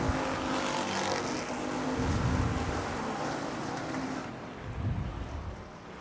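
Non-wing sprint cars get the start of an ASCS Elite race at South Texas Race Ranch, a loud, steady engine roar with wind-buffeted rumbling surges as the pack accelerates past, no voices over it.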